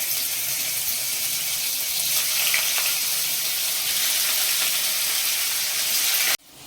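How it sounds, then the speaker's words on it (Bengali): Paneer pieces fry in white oil with a pinch of salt in a kadai, giving a steady, loud, broadband sizzle that runs unbroken for several seconds, then cuts off abruptly near the end. "একটা কড়াতে চার টেবিল চামচ সাদা তেল দিয়ে তার মধ্যে একটুখানি নুন দিয়ে দিয়েছি দিয়ে পনিরগুলোকে ভেজে নেব"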